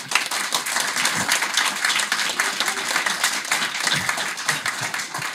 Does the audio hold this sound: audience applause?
yes